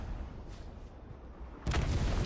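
A destroyed recon tank blows up during a night battle on the Kursk map in the game Hell Let Loose. A muffled rumble of distant explosions builds into a sudden heavy boom near the end.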